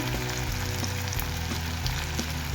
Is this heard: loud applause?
no